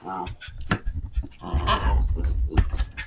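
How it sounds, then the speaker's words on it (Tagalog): Two farm dogs bark and whimper close by in short, uneven bursts, while people talk over and between the noises. "Yung ating dalawang aso"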